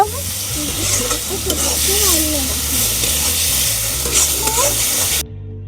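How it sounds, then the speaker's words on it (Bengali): Potatoes being stir-fried in spice masala for a Bengali muri ghonto, a loud, dense, hissing sizzle with scraping spatula strokes, fairly close and steady before cutting out abruptly at the end; no speech. "এবার আলুগুলো দিয়ে দিচ্ছি আলুগুলো দিয়ে একটু কষিয়ে নেব"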